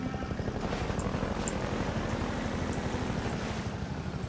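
A steady, continuous helicopter rotor drone from the video game Half-Life 2, loud and unbroken throughout, with a dense low rumble and faint higher tonal blips.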